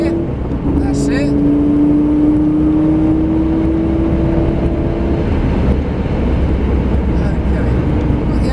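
Car accelerating hard on the Donnington race track, a steady engine drone rising in pitch as it builds speed and shifts up a gear, loud and close throughout, with an instructor talking over it.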